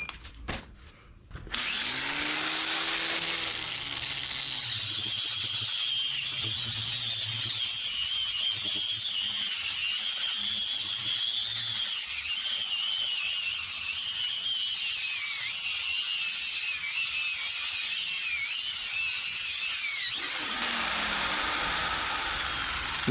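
An abrasive Scotch-Brite wheel spins against a Ford 9N flywheel, a loud steady high-pitched whine with a grinding rasp that holds for about twenty seconds before winding down, with no talking.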